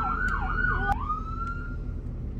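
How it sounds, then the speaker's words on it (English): A police car siren wails close and loud in a rising-and-falling yelp, then switches to a sustained steady tone, with a few short electronic blips over a low idling engine. "Officer Steve, do you have a siren? Yes, I do. You want to listen to it?"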